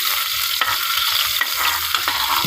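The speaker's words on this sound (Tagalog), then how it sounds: "Una, maggisa na tayo ng bawang." Garlic sautés in a hot pan for a vegetable dish, with a close, constant sizzle broken by brisk stirring scrapes and spatula knocks.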